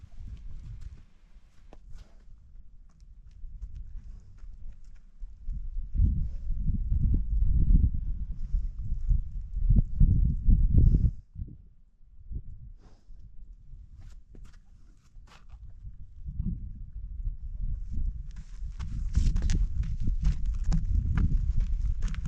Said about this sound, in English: this next horse that comes over, this guy, he's going to mess up my hoof cam